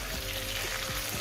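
Beef with ginger garlic paste fries in a pan, a dense steady sizzle close to the mic, brief and unbroken with no voices.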